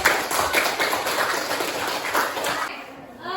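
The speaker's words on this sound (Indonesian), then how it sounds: "Tepuk tangan." Applause from a class of eighth-grade students in a junior high science lesson, a dense patter of many hands clapping at a steady level for about three seconds, then fading out.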